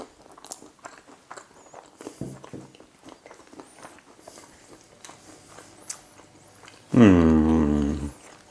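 Someone bites into and chews a moist chocolate brownie with nuts: soft, faint crunchy clicks scattered over several seconds, then a loud, drawn-out appreciative hum from the eater.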